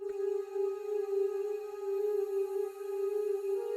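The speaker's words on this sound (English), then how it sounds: "so I went into Xenology and I found this kind of vocal chop preset" A vocal chop preset soaked in heavy reverb and layered with a synth pad in an ambient beat, a steady sustained tone with a gently wavering swell and no talk.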